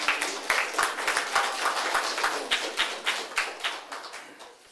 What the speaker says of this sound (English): a round of applause for Betsy.